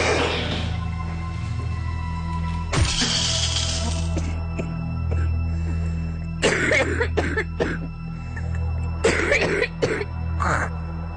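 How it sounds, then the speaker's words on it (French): During chest physiotherapy, a patient gives several forceful, wet coughs in short clusters, close to the microphone, against a low steady hum. "par une toux efficace."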